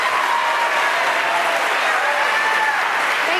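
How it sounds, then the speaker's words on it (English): Audience at a Washington U.S. Senate debate at PLU gives the candidates a loud, steady round of applause, a dense wash of clapping that fills the whole moment without letup. "Now you can feel free to give the candidates a round of applause"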